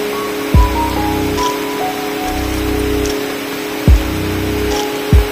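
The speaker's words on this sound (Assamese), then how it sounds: "এয়া চাদৰ ওপৰৰ পৰা বৰষুণৰ টোপালবোৰ চাওক।" Rain falls continuously in an even, steady hiss, heard from a house veranda as raindrops drop from the roof, with a few brief, louder thumps recurring at irregular intervals over the constant wash.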